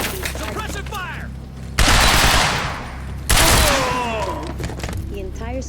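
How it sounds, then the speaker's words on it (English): Two loud, close bursts of automatic gunfire in the Quantum Break game, separated by stretches of voice chatter and radio-style talk. "Suppressive fire!"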